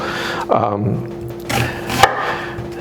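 Bowls are moved and set down on a table in a home kitchen, giving a couple of hard knocking and scraping clunks close by, with someone speaking in between.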